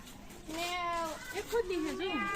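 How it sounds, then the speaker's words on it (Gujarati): A jungle cat at a zoo gives a couple of drawn-out, wavering meows at close range, with people talking nearby. "હા જંગલી બિલાડી બતાવું"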